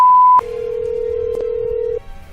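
A telephone call being placed: a short high beep, then a steady lower ringing tone that lasts over a second before cutting off, loud and close with no voice.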